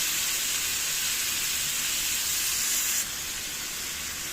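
Alexandrian-style liver sears in a very hot pan over a high flame, giving a loud, steady sizzle and hiss that drops slightly in level near the end.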